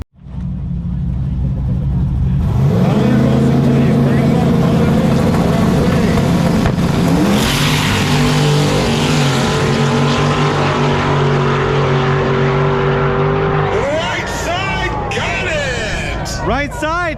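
Drag race cars, including an LS-powered Mazda Miata, launch at a no-prep strip at Immokalee Regional Raceway: loud engines roar up through rising pitch with gear changes, then fade as another engine screams nearby at the end.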